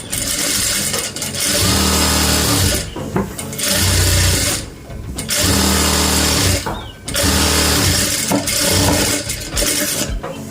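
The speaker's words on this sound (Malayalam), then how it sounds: "സ്റ്റിച്ച് ചെയ്യുമ്പോൾ 2 വട്ടം സ്റ്റിച്ച് ചെയ്യുക." A sewing machine stitches palazzo pants in long steady runs of loud motor whirring and needle rattle, stopping briefly between seams, close up with no talking.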